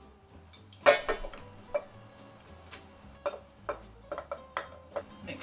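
Zucchini batter with vanilla being mixed in a bowl, giving irregular clinks and taps of a utensil against the bowl, fairly close and alone with no voices.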